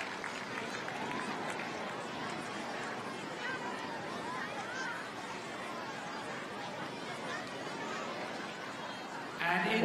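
Stadium crowd at the 2018 World Para Athletics European Championships cheering and applauding a gold medallist, a steady broad roar of claps and chatter sustained throughout, swelling slightly louder at the very end.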